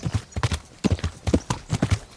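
Horse hooves clip-clop at a steady trot in the medieval role-playing game Kingdom Come: Deliverance, crisp rhythmic double beats close and clear with brief gaps between strides.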